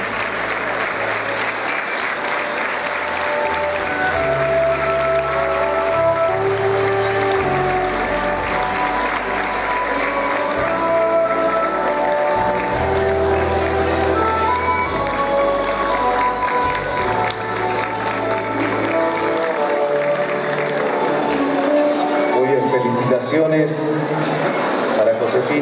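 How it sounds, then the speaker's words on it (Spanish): A crowd at a national gaucho tradition festival ceremony keeps up sustained, loud applause and cheering to welcome the first national ambassador, while a voice speaks and music plays underneath. "darle la bienvenida con un cálido aplauso a la primera embajadora nacional"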